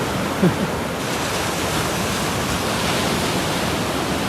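Sea waves break at Mundesley beach in North Norfolk, a steady, dense wash of surf with wind, heard from the shore with no voices.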